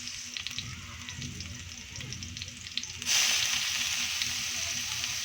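Onion drops into a hot pan for spicy squid, a low sizzle that jumps into a loud bright hiss halfway through and then holds steady close by.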